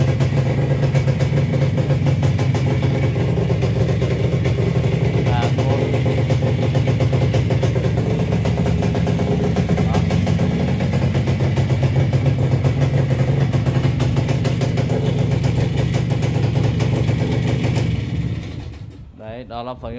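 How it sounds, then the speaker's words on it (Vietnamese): A Minsk motorcycle engine running steadily after a kick start, a loud close rattling idle with mechanical clatter throughout before it cuts off near the end. "Thì đây em sẽ phần nổ máy cho anh em này."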